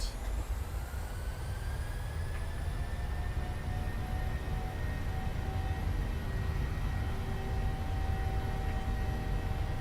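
Boeing 737-700 engines spooling at takeoff power in the PMDG flight simulator, a steady, loud jet roar with rising whining tones that climb slightly in pitch, continuous throughout with no talking.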